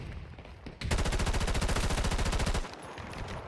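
Rapid automatic gunfire in Battlefield 2042, a loud sustained burst of closely spaced shots lasting nearly two seconds, then cutting off into quieter game ambience.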